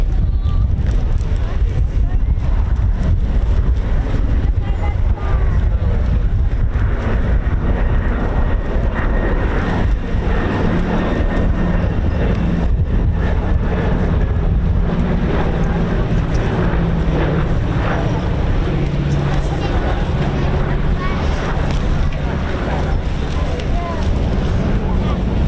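A PBY Catalina flying boat at an airshow: steady, loud engine drone and heavy wind rumble carry throughout, with commentators talking over it.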